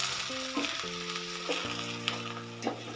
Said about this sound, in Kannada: ಎಣ್ಣೆ ಜೊತೆ 2 ನಿಮಿಷಕ್ಕೆಲ್ಲ ಇದು ಫ್ರೈ ಆಗುತ್ತೆ.